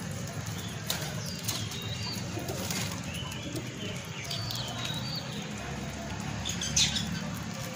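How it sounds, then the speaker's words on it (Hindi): Pigeons in a flock kept by an owner, soft wing flaps and fluttering with scattered faint coos and light pecking over a low background hum, fairly quiet and close. "ये भी खा रहे हैं कुछ कबूतर।"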